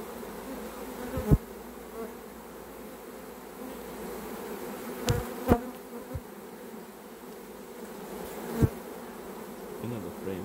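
Honey bees swarming and scenting at the entrance of a hive, a dense continuous buzzing hum close by, punctuated by a few sharp knocks and taps, with no speech.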